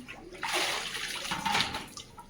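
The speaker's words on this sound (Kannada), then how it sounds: "ನೋಡಿ ತಾಮ್ರದ ಬಿಂದಿಗೆಯಲ್ಲಿ ನೀರನ್ನು ಸೇರ್ತಾ ಇದ್ದಾರೆ ಪುರೋಹಿತರು" Water pouring into a copper pot at a well inside a temple courtyard, a steady splashing gush that swells and fades over a couple of seconds, close by.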